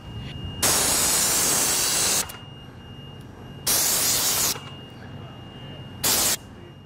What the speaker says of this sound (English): Spraying the coating is no different than spray painting.